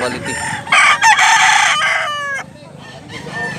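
A two-year-old Pumpkin Dragon gamecock with green legs crows loudly up close, a strong harmonic call that breaks off into quieter farmyard background.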